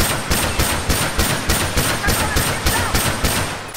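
Rapid bursts of gunfire from a turbo-controller-speed shooting sequence in the video game The Last of Us, a steady, loud rhythmic volley of shots about three per second, continuous throughout with no talking.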